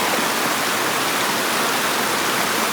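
Fast-flowing Konkan river water running high, a loud, steady broadband rush close by with no breaks.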